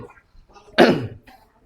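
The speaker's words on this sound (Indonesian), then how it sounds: "Dehem leher kan gini. Itu dehem leher ya." A single deliberate throat clearing, demonstrated during a religious lesson at a community learning center: one loud, raspy burst of about half a second, between quieter mouth noises and breaths.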